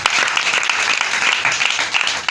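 A church congregation clapping in praise of God during a service, a loud, dense, continuous round of applause close by.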